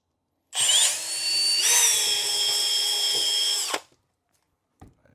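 A power drill bores through the upper bulkhead part of a Traxxas X-MAXX RC truck, a steady high whine of about three seconds with a brief pitch dip partway through. It stops abruptly, followed by a faint click.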